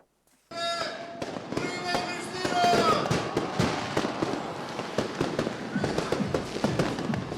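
Fireworks burst over a crowded capital city square at a New Year's Eve celebration, a dense run of sharp crackling bangs and pops going on nonstop, with crowd voices underneath.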